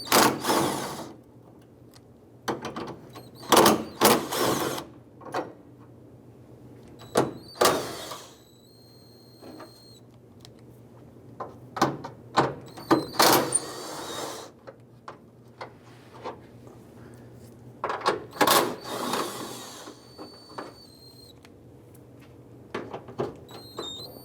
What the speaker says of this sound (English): Using a 10mm socket, we're going to go ahead and remove the bolts holding the hood actuator